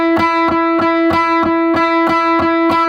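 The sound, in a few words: electric guitar playing triplets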